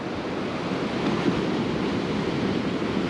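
Ocean surf breaks over sandbars on an Assateague Island, Maryland beach, a continuous loud wash of waves with steady wind noise over the microphone, close and unbroken.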